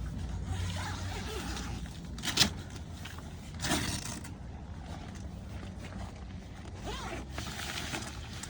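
A tent zipper on a Zempire Pro III V2 Air tent being pulled in a few short, scratchy strokes, close by, separated by pauses over faint background noise.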